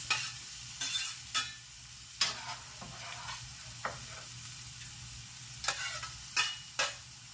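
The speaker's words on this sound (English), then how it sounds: "I'm going to add my eggplants." Eggplant pieces frying with onions and spices in a pan, a steady soft sizzle broken by repeated sharp scraping and stirring strokes, close and moderately loud, with no talking.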